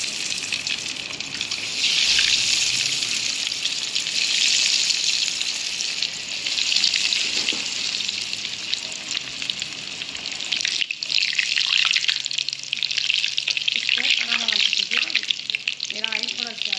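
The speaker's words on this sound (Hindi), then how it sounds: "फ्राई करने के लिए मैंने इसके अंदर डाला।" Chicken macaroni kebabs frying in hot oil over a low flame, giving a steady, loud crackling sizzle throughout, with a brief stir or shift in the sound partway through.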